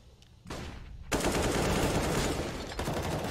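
Rapid automatic gunfire bursts from a Counter-Strike match, starting with a sharp shot and swelling into a loud, sustained volley of shooting that fills the scene.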